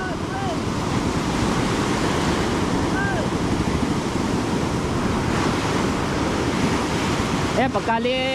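Steady roar of sea waves and wind buffeting the microphone, loud and continuous, with faint voices calling out near the end.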